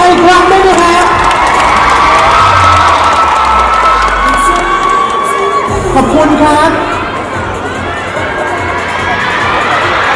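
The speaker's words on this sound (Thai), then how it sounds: "ขอเสียงปรบมือเลย" Fan-club crowd at a Bangkok mall appearance by BamBam of GOT7 cheering and screaming loudly throughout, with children's shrieks and whoops over a dense roar, a brief bang midway, and a voice talking underneath.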